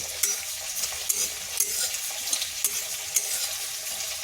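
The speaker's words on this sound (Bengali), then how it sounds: "ওপাশে মাছগুলো ভাজা হচ্ছে" Pieces of katla fish frying in oil in a pan, a dense continuous sizzle with small crackles and pops, close and even throughout, no voices.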